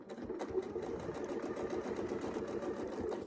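A sewing machine stitches a quilt seam a quarter inch from a straight-line ruler template, its needle whirring continuously and close at an even pace throughout.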